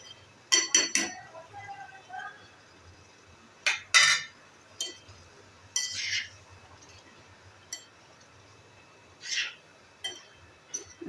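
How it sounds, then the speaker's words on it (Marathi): Metal clinks and clatters from a pot lid being handled and set on a cooking pot of mango curry on a gas stove, several sharp separate taps and rattles spread through the clip, close and fairly clear. "याच्यावर पण एक 5 मिनिटासाठी झाकण ठेवायचं आहे"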